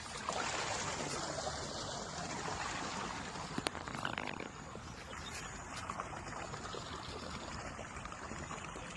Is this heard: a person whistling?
no